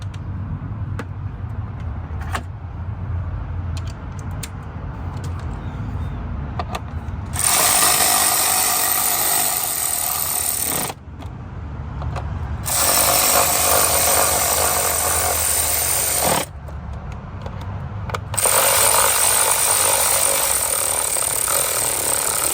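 Spark plugs are tightened on a Honda Accord with a power tool. Loud, harsh mechanical whirring comes in three long bursts, with quieter gaps between them.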